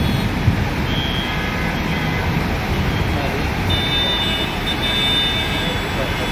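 Traffic on a flooded, rain-soaked road in Dharwad, with a broad, loud wash of engine and water noise and intermittent reversing beeps from a truck, under voices.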